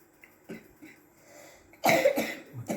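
Several coughs, a few softer ones early, then a loud burst of harsh coughing near the end, close up with no talk.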